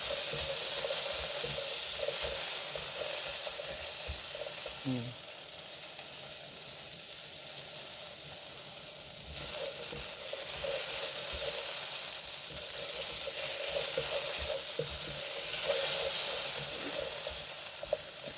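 Corned beef and potatoes sizzle and fry steadily in a pan while being stirred, a continuous close hiss with soft scraping through the whole stretch and no talking.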